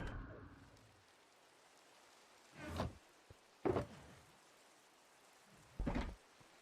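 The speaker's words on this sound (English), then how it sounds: "Rain." Rain falls outside a mansion on Taiga Hill, a faint steady hiss in the distance broken by a few louder, brief rushing swells, soft overall.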